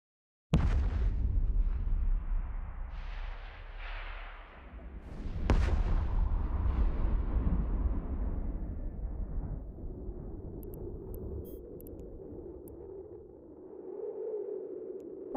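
NPC ships in the video game EVE Online destroy hacking containers with a sudden loud blast, a second heavy boom a few seconds later, and a long low rumble that slowly fades.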